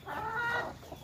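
A single short cluck or call from a chicken on a farm, close and clear, lasting under a second.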